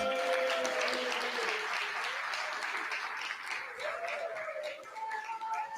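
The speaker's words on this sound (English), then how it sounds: "please give our students a round of applause" An audience at a school district event gives the students a sustained round of applause, thick and steady throughout, while a voice speaks over it.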